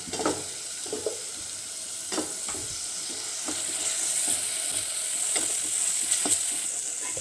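Onions fry in a pan for a vegetable cutlet, a steady sizzle running throughout with occasional scrapes and clicks of stirring close by.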